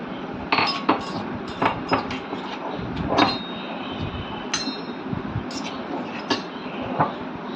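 A metal spoon scoops khichdi into a small bowl, giving scattered clinks and scrapes against the dishware, several sharp taps spread irregularly over a few seconds close by.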